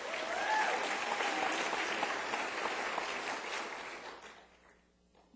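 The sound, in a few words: audience applause and cheering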